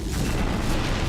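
A photon torpedo fires in the Star Trek Legacy space combat game, giving a dense, loud rumbling boom that fills the whole moment without any break.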